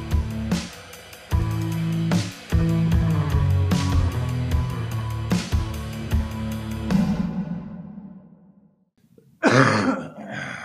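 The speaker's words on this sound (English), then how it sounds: "keep the cough in" Music plays with steady percussive beats, fades out into near silence, and then a harsh, raspy cough bursts in at the end.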